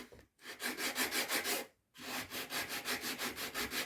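Wood being sanded by hand with a sander for a table saw jig, a steady rhythmic rubbing in two passes of back-and-forth strokes separated by a short pause, close and fairly loud with no talking.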